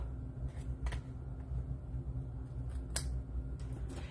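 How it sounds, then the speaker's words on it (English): Snips cut the ends off adhesive-covered cardstock strips during a fracture card craft project: two or three crisp, quick clips over a low, steady room hum. "Take a snips that you don't mind getting a little bit of adhesive on and snip those ends off."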